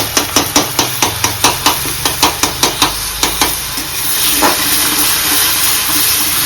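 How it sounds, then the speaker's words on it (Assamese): Onions fry in butter for a makhni chicken kabab gravy, opening with a quick run of rhythmic utensil taps against the pan, then settling into a loud, steady sizzle up close. "তো পিঁয়াজটো মই অলপ ফ্ৰাই কৰিব লাগিব"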